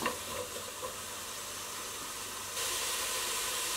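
Vegetables are softened in a pot for a classic Italian minestrone without browning. A steady, gentle sizzle and hiss runs throughout and grows slightly brighter and louder near the end.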